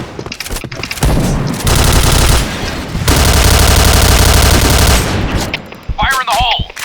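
A Kriss submachine gun firing in a video game: loud, close bursts of rapid automatic fire, including a long sustained stretch, followed by a few scattered shots.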